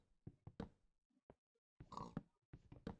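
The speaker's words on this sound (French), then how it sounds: "Un cochon qui me pousse." A pig in a video game gives short grunts and oinks in a few separate bursts with pauses between them, close and fairly clear, without speech.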